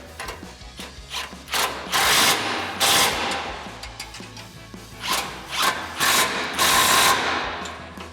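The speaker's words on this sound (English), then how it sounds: "we're going to come underneath and tighten our bolts down with our 18mm socket and 18mm wrench." A ratchet with an 18mm socket tightens bolts on a Barricade HD rear bumper under a 2017-2022 Ford F-250, in several close bursts of rapid clicking separated by short pauses, with no talking.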